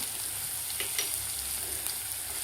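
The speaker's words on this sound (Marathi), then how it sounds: "तर यामध्ये घालायचे आहेत आपल्याला 2 ते 3 हिरव्या मिरच्या कापून घेतलेल्या." Chopped green chillies frying with cumin seeds in a pan, a steady soft crackling sizzle throughout with faint stirring ticks.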